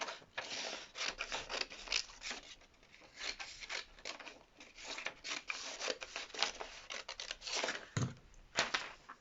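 Scissors cut through frock fabric along marked lines, giving a fast run of crisp snipping and rasping strokes in uneven bursts, close up with no voices.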